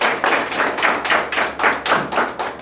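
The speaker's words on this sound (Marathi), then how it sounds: "एक आपण सगळ्या लीडरनी मिळून एक टाळ्या वाजवा, त्यांचं वेलकम करू" A group of people at a business meeting claps hands to welcome newcomers, a close, loud run of quick, rhythmic claps with no talking.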